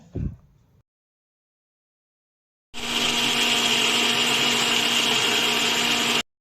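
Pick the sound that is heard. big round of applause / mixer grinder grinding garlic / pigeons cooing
mixer grinder grinding garlic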